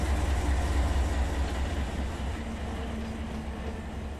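A heavy train rolls into a siding in the Run 8 train simulator game, a continuous low diesel engine rumble with a steady broadband rail rush, loud and close, fading slightly over four seconds.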